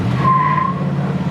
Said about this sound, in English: we'll give it a little gas here, see if it's got all the torque and all the things that it should have